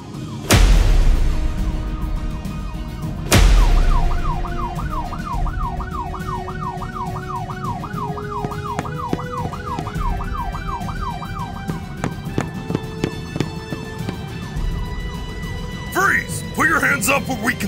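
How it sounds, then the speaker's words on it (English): Wailing police siren in the Roblox Brookhaven roleplay game, a fast up-and-down warble rising in the middle of the scene, with sharp impacts before it, game sound effects around it, and people talking over it. "Why am I hearing police sirens?"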